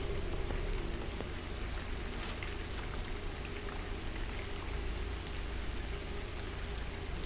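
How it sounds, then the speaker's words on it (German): Steady rain falls outside in the video game Bunker 16, a dense, even patter that holds at a constant level throughout, with no voices. "draußen regnet immer noch"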